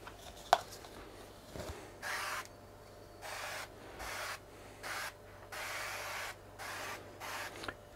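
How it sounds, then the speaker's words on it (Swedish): Cooking spray hissing onto a baking dish to grease it, in several steady bursts of a second or so each with short pauses between, fairly close and alone with no talk. "Och ska börja med att smörja formen med sprayfett."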